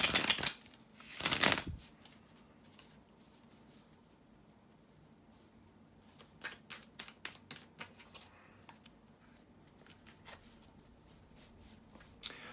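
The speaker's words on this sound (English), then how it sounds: "bear with me a second, guys, to shuffle the tarot cards" Tarot cards are riffled and shuffled in a loud burst near the start, followed by a series of quicker crisp flicks and snaps with quiet gaps between.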